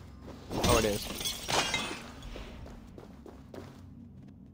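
Rocks shattering in Assassin's Creed Valhalla, two loud crumbling breaks early on followed by scattered smaller cracks and footstep-like thuds fading away.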